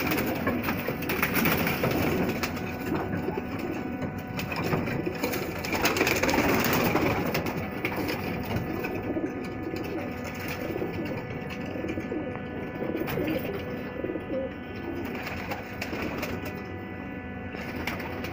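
A flock of pigeons kept in a loft coos steadily in a dense, continuous murmur of overlapping low calls, close and fairly loud, with no voices.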